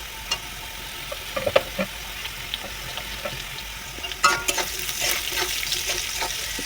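Chopped onion and green chilli hit a pan of frying potato, starting as a faint sizzle with scattered taps and swelling into a louder, steady hiss near the end.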